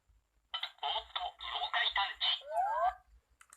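A Yo-kai Watch Type Zero toy switched on, giving a run of bright electronic beeps and chirps in quick bursts that end in a rising and falling warble, with no talking.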